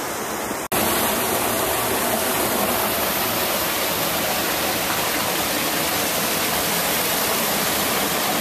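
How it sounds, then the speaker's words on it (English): A small waterfall pours into a little pool outdoors, a loud, steady rushing roar that runs unbroken after a brief opening moment. "Waterfall coming in over here. And the water rushes out over there."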